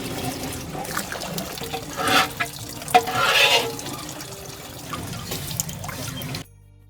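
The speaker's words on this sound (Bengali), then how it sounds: "ওই যে যে মাটির পাতিলগুলা দেখছেন পানি দিয়ে ভিজিয়ে রাখছি, সেগুলো এখন ওয়াশ করব" Clay pots are washed with water outdoors, with close splashing, pouring and trickling sounds that rise in a few louder bursts before the sound cuts off abruptly.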